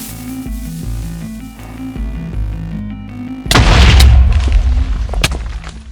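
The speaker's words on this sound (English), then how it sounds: "Or make a shrapnel bomb." A shrapnel bomb from the Minecraft Oreganized mod explodes partway through, a loud blast followed by crackling bursts and scattered pops, rising over steady background music.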